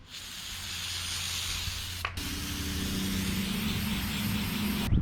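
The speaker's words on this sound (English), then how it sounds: "She's gonna get the old sanitizer spray." A continuous hissing aerosol sanitizer spray inside a 1984 Toyota mini truck, close and steady, briefly cut off and then resumed in a long sustained burst.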